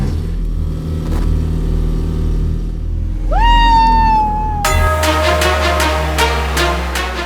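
An AI-driven car accelerates loudly on a test drive, its motor rising into a strained whine over a steady rumble and then holding a sustained, harsh tone.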